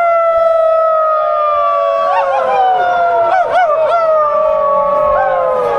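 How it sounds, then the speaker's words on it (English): Fire department sirens wailing with people howling along, rising and falling voice howls overlapping the steady siren tones, loud and close. "we even had fun howling at the sirens when the fire department showed up."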